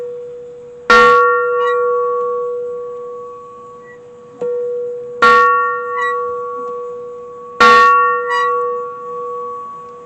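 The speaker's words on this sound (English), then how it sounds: "Very heavy bell." A very heavy bell taken from a main railway locomotive, struck three times at slow irregular intervals, each loud clang ringing out with a long sustained metallic decay.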